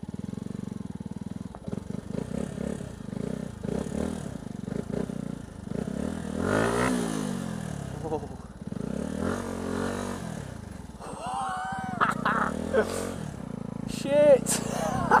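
Motorcycle ridden across an icy surface, its engine revving and labouring in uneven bursts with scraping and clattering, while a rider talks excitedly over it throughout.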